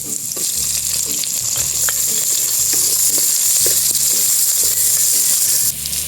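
Onion added to sizzling garlic and ginger in a pan for a Filipino dinuguan, frying with a loud, even hiss while a utensil scrapes and stirs in regular strokes; no voices.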